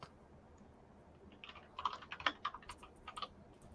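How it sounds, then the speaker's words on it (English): Keystrokes on a computer keyboard come in quick irregular bursts of clicks, soft and fairly close, with short pauses between flurries in an otherwise quiet room. "Don't judge my typing,"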